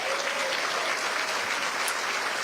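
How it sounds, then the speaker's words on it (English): Audience at a county State of the County address applauding steadily, a dense continuous clapping from a large crowd filling the room throughout. "This is your chance to clap for yourself, cities."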